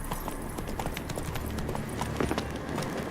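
Horse hooves galloping in The Witcher 3 game world, a steady rapid clip-clop rhythm close and continuous over low ambient rumble.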